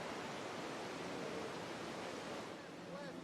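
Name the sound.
big waves at Nazaré heard through underwater microphone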